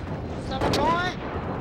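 A single sniper rifle shot fired in the video game Halo Reach cracks out loudly and rings off with a brief ringing tail, amid ongoing game noise.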